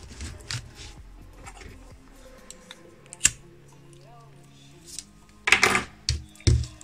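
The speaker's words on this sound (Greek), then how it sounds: "Κόβω το νήμα μου." Scissors snipping crochet yarn close by, a few sharp short cuts among quiet handling rustles and small clicks, with a louder cluster of snips near the end.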